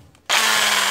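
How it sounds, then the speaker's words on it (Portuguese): An electric drill fitted with a thin 3 mm bit starts abruptly after a brief quiet moment and runs in a loud, steady, high whine, part of building an articulated tractor. "Já tô com a furadeira aqui, ó. Primeiro eu furo com essa broquinha fina aqui"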